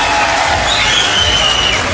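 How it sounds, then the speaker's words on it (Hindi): A large crowd claps at a Gurjar mahapanchayat rally at Anangpur, a dense, steady wash of applause with a thin whistle riding over it. "अगर ताली बजाओ तो ढंग से बजाओ"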